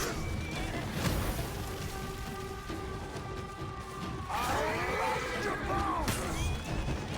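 Horses in the Viking-era combat game For Honor neigh and whinny several times amid battle noise, loud shrill calls standing out near and rising over a dense background of clatter and rumble.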